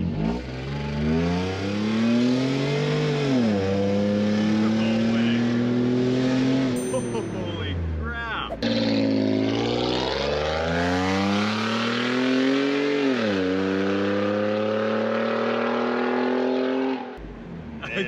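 A supercharged Toyota Sienna minivan engine revs hard and loud, rising and falling through several sweeping pulls with a supercharger whine, heard close with voices reacting in between.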